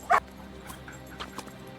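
A pet dog barks once sharply while playing fetch in a park, followed by a few fainter yips and whimpers amid quiet outdoor background.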